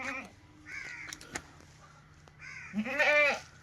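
A goat bleats nearby a few times, with a longer, louder bleat near the end and a quiet background between calls.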